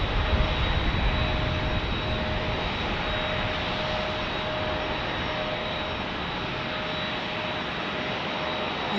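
Boeing 787 Dreamliner touching down at San Diego airport: a steady, loud broadband jet roar fills the whole stretch with no letup, close by and without any talk.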